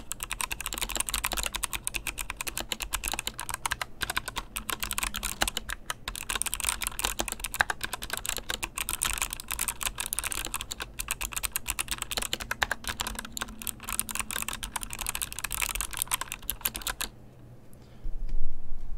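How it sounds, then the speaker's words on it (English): Continuous fast typing on a Motospeed CK61 60% mechanical keyboard with Kailh Box White switches, dense crisp clicky keystrokes close up for about seventeen seconds, then stopping abruptly into near silence, no talking. "The sound quality of the switches and the keycaps is actually really nice."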